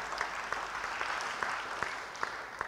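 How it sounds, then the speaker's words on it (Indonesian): Applause from an audience, a steady wash of many hands clapping at moderate distance, fairly soft, with no talking. "beri tepuk tangan bagi dia"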